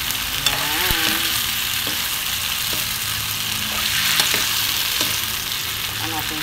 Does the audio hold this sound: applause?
no